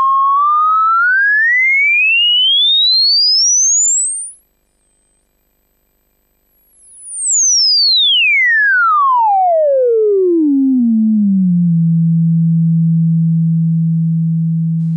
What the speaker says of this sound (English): Without any signal patched in, full resonance will produce a sine wave tracking 4 octaves.